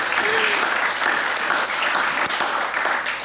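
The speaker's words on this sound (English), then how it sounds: "So let's give her another round of applause" Sustained audience applause fills a conference hall at a national youth with disabilities gathering, a dense, steady wash of many hands clapping at even loudness throughout.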